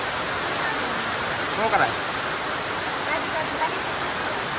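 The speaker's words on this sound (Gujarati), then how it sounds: "વરસાદ આવ્યો" Rain falls steadily in a continuous, even hiss, close and moderately loud, while a person speaks briefly over it.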